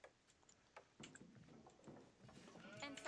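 Sheep bleat in the Age of Empires IV strategy game, a few short bleats rising over soft interface clicks and game ambience, with no talking.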